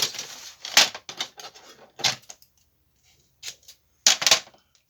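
Several short crisp snips of scissors cutting paper, close by, in irregular bursts with brief pauses between them.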